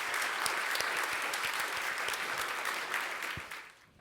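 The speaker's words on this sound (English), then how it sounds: "Let's give them a round of applause." Members of a Unitarian Universalist congregation give their actors a round of applause, hearty clapping with sharp nearby claps popping through, holding strong for several seconds and then tapering off quickly.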